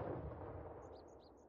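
Artillery gun fire in a Normandy hedgerow war video game, heard as a sustained low rumbling boom that fades slowly, with faint higher chirps near the end and no talking.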